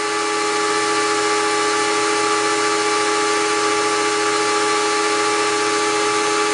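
Metal shaper machine cutting dry with no lubricant or coolant, a loud, steady, high-pitched grinding whine that holds constant and alone throughout.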